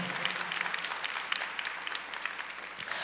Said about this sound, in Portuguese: Aplauda a palavra, isso, aplauda a palavra da salvação